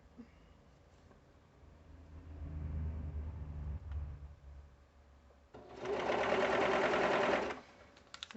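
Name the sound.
serger sewing the hood lining of a pullover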